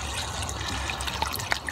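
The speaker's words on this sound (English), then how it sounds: "Just got to get this water in here." Water poured into a car's windscreen washer reservoir, a steady close trickling fill with small splashy gurgles, heard on its own without talk.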